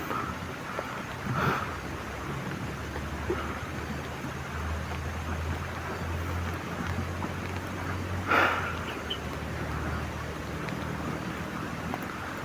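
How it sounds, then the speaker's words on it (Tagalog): Rain falls steadily on an open field near a hut, a constant soft hiss with low rumble and a couple of brief louder gusts, no voices. "Yan tol, ulan."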